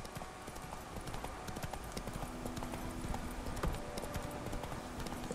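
Horse hooves clip-clop at a steady walking rhythm as a rider travels across open country in the video game The Witcher 3, with soft ambient game sound underneath and no talking.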